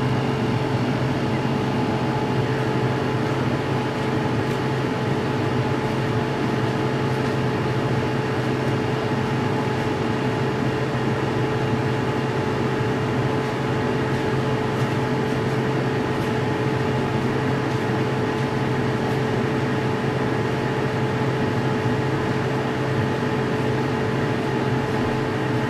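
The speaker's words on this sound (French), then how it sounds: "je laisse environ une minute avec le son de la climatisation en fonctionnement" An air conditioner fitted with a homemade window adapter runs steadily, giving a continuous, even hum with a faint tonal drone and no pauses or voices.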